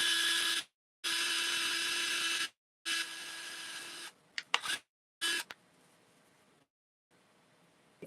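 A power drill whirs in several bursts of a second or two each, drilling holes in plant pots, with short pauses and brief stop-start revs toward the end, then quiet.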